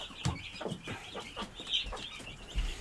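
Brahma chickens cluck softly in short, uneven bursts close by, with a few higher chirpy notes mixed in.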